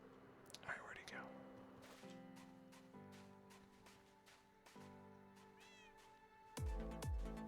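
A Minecraft cat meows several times in the game, small tonal cries spread across the stretch with soft clicks and faint background noise, and a person talks quietly alongside.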